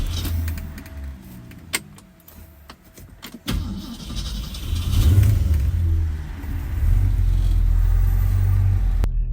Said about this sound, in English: get a better listen to the sound of the car as it starts